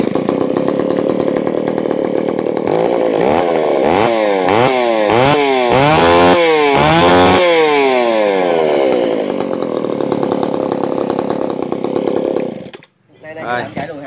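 A Kioritz 302 chainsaw engine runs loud and close, holding a steady roar, then revving up and down in several rising and falling surges before settling and cutting out near the end.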